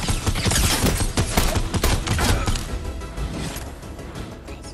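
Dense volley of gunshots in the Fortnite video game, loud and close, overlapping rapid cracks and bangs filling the whole stretch with no pause.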